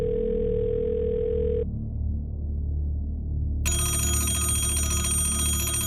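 A telephone call goes unanswered, with a steady line tone giving way after a short pause to a loud, buzzy electronic ringing tone that keeps sounding.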